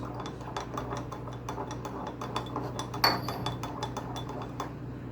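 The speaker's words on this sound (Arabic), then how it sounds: "واقلب النسكافيه اللي تحت عشان ممكن النسكافيه اللي تحت ده يضايقني، فانا هقلبه عشان يدوب خالص اهو" A spoon stirs Nescafe and milk in a glass, sending out a quick, steady run of light clinks and scrapes against the glass at close range, with one brighter knock in the middle.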